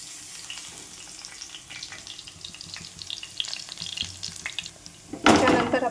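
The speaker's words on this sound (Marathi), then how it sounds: "आलं लसूण पेस्ट हे पण छान भाजून घेते" Ginger garlic paste frying in hot oil with cumin and mustard seeds, a steady crackling sizzle with scattered pops and stirring, swelling louder near the end as the paste hits the pan.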